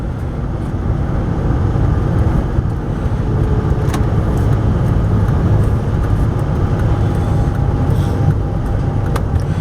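A 2000 Volkswagen Winnebago Rialta 22HD motorhome cruises on the interstate, with a steady, loud cabin rumble of engine and road noise that stays constant throughout.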